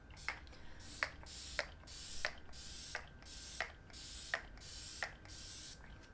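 A makeup setting spray bottle mists repeatedly, about nine short hissing bursts at a steady rhythm, close up and quiet.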